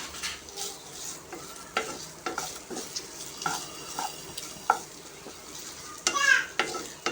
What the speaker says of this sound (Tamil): இந்த கருவேப்பிலையும் இந்த காஞ்சி மிளகாயும் பொன்னிறமாக வர்ற வரைக்கும் அப்படியே சிம்லேயே போட்டு நம்ம கிண்டிக்கி இருக்கணும்.